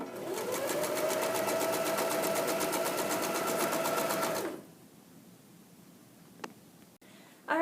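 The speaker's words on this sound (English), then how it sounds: "and then continue stitching." Fabric quilt patches being stitched on a sewing machine, a steady rapid whir running close and loud for about four seconds before stopping abruptly, followed by quiet and a few faint clicks.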